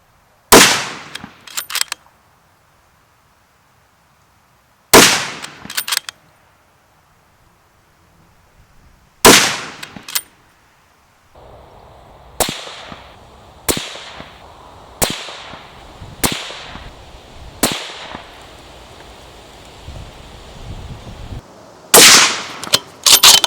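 CZ 600 Range bolt-action rifle in .308 Winchester firing on a shooting range: sharp, loud single shots spaced several seconds apart, then a quicker run of cracks with a lingering echo and some handling noise between them.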